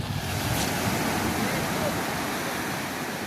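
Surf rolls onto a beach in a continuous wash of breaking waves, close and steady, mixed with gusty wind buffeting and faint voices in the background.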